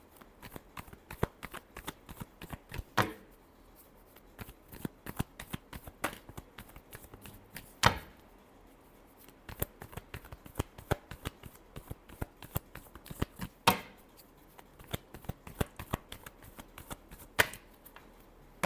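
Tarot cards are shuffled by hand in repeated quick riffles, a close, crisp flutter of card edges with short pauses between bursts and faint taps.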